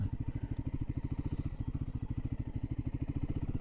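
A Royal Enfield Himalayan 450 motorcycle pulling away, its single-cylinder engine thumping in a fast, even pulse close to the listener, steady throughout.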